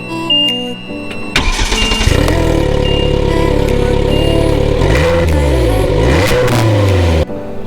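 A Slingshot three-wheeler starts up and revs hard close by, rising and falling throttle blips over a rumbling idle, then pulls away with a sweeping engine tone before cutting off abruptly.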